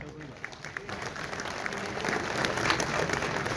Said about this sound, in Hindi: आप सबकी भरपूर तालियां